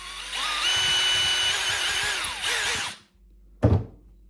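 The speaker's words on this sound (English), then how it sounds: "I'm going to drill a single hole here in the bottom of the bird" A power drill bores a single hole into the bottom of a carved wooden miniature mallard drake decoy, a steady whining run of about three seconds that winds down, then a short knock after a pause.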